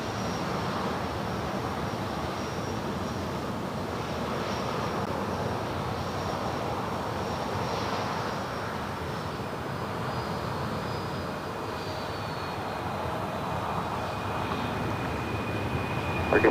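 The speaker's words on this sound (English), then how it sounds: "Another FedEx 767 rolling down 25 left." A FedEx Boeing 767 jet rolls down runway 25 left at LAX, a steady broad engine roar with a rising whine held for the whole stretch, moderately distant and swelling slightly toward the end.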